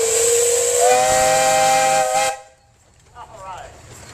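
A 1924 25-horse Russell steam engine sounds its whistle in one long, loud, shrill blast with a steady hiss that cuts off abruptly, followed by faint outdoor crowd noise at a show parade.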